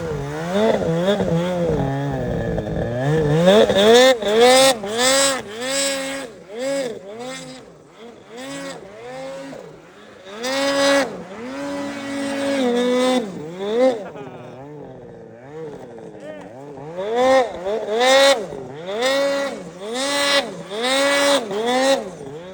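A snowmobile engine revs repeatedly through a wheelie spin, rising and falling in loud, close whining bursts with brief dips between them, continuing for the whole stretch.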